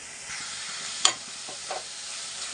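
Egg curry with spring onions, green chillies and salt cooks in a covered pan, giving a soft, steady sizzle with one sharp metallic clink near the start and a few quieter knocks later, no voices.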